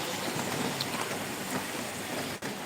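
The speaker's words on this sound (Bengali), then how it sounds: "এত সুন্দর ঝিরিঝিরি বৃষ্টি হইতেছে" Light drizzle falling outside a small shop, a steady, even wash of soft rain hiss throughout, with a brief dip near the end.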